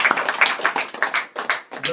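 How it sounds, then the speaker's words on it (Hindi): Clapping from a congregation at a church memorial service for Bro Peter Gaikwad, uneven bursts of hand claps with brief gaps, close and moderately loud, with some voices mixed in. "यस सर, आप फिर से सराहना की ताली दे सकते हैं।"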